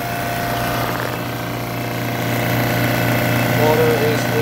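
A Seawater Pro 110/220 VAC watermaker motor runs steadily with a constant hum and mechanical whir under ongoing talk, close and moderately loud throughout.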